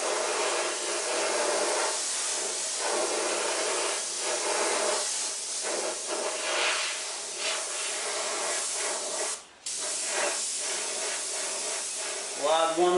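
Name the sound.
airbrush spraying white paint on a fender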